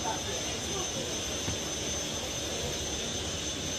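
A steady, droning airliner jet engine roar at Canberra Airport fills the air without pause, with a faint high whine on top.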